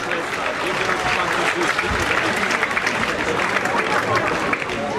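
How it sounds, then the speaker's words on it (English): Crowd at a boxing or kickboxing bout applauding both fighters after the match, a steady, loud wash of clapping with some crowd noise throughout. "give them both a big, big applause."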